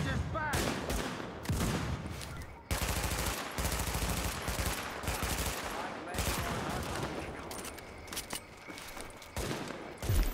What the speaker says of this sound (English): That guy is straight up using a shotgun.